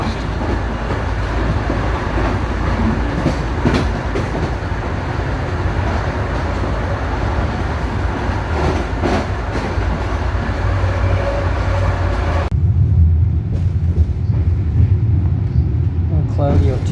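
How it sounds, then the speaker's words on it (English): A train leaving Portland rumbles steadily along the tracks at speed, a loud continuous roar with rhythmic rattling; the sound shifts to a deeper, muffled rumble near the end. "This train really moves along fast."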